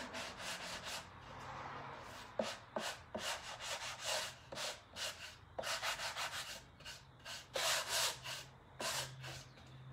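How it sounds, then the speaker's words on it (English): Sandpaper lightly rubs over a painted wooden serving tray in quick back-and-forth strokes, a steady series of close, soft raspy swishes with brief pauses and no talk. "So I'm just going to go ahead and lightly sand this."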